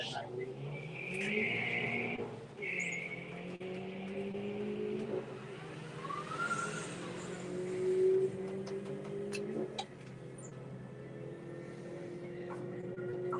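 A Jaguar car moving at a drag racing strip, a steady engine drone with a rising whine, heard at a distance under an announcer talking over a loudspeaker.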